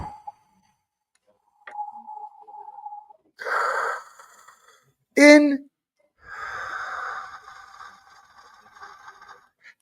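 A person breathes in and out to imitate wind: a few separate airy whooshing breaths, close and moderately loud, broken by short pauses and a brief louder burst, with a little speech near the start.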